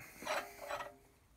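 A wrench is worked back and forth on a stuck stud, making two short grinding, rasping strokes in quick succession, close by but quiet, with no voices.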